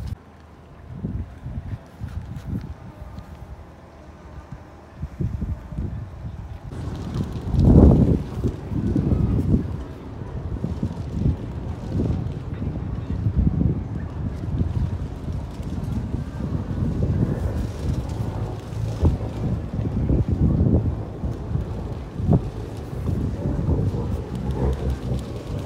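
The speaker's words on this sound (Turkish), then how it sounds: "Çok rüzgar var." Strong wind buffets the microphone aboard a tour boat off Orak Island near Bodrum, a steady low roar with gusty surges that continues throughout.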